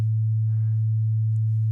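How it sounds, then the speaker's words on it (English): A steady, pure low sine tone from the Logic Pro test oscillator, set to 110 Hz, holds unbroken and loud throughout with no voices. "I'm going to change this to my sine wave."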